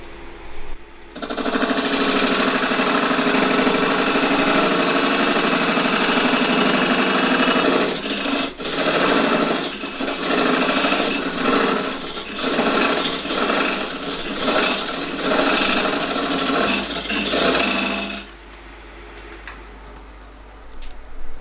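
A parting tool cuts into spinning wood on a lathe, a steady loud rasping scrape that runs for many seconds, then breaks into repeated short pulses of cutting before stopping, with no talk.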